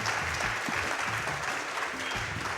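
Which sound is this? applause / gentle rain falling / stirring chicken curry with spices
applause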